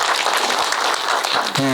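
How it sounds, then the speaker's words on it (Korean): An audience claps in a loud, dense round of applause, and a voice starts speaking just as it ends. "박수 한번 주시고"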